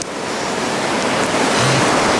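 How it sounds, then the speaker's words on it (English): Strong, gusty wind blasts across a microphone outdoors in winter, producing a steady roaring rush of broadband noise with low buffeting rumbles that swell slightly toward the end. "let's go outside and try them in this horrendous wind"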